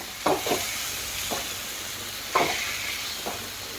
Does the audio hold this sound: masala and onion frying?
yes